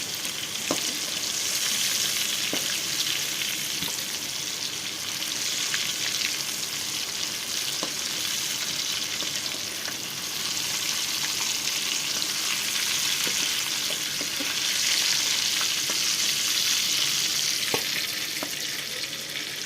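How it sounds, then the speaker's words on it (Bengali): Steady, dense sizzle of brinjal frying in hot oil, with occasional sharp crackles and pops, close by and continuous throughout. "তেলের মধ্যে আমি বেগুনগুলো ভেজে নেব।"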